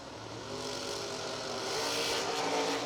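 A little Vega wagon and a long dragster launch side by side down a drag strip at a million-dollar event, their engines building into a loud, rising roar that swells and holds.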